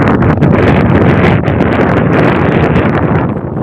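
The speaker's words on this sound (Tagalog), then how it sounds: "Ganyan lamig ng hangin, amihan, tapos yung hangin niya sobrang lamig" Strong, cold northeast monsoon wind roars steadily against the microphone, a dense, loud rushing noise with no pauses and no voices.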